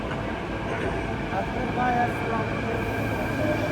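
A metro train in Mumbai rumbles steadily along, its low droning hum filling the space, with faint murmuring voices in the background.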